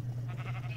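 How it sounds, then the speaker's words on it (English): A sheep bleats in the Minecraft video game, a short close call over a steady low hum. "Is that a sheep stuck in a tree?"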